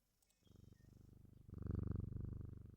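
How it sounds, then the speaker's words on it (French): A domestic cat purrs close by in a steady rhythmic rumble that swells louder halfway through, with no talk over it. "On entend le chat."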